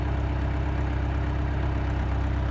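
A farm tractor idles steadily nearby, a low continuous engine rumble with an even hum and no other sounds.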